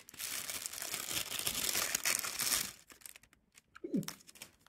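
Crinkly plastic Magic the Gathering Zendikar Rising draft booster pack bag crumpled up close for several seconds, then quieter handling with a few soft rustles and a brief low thump.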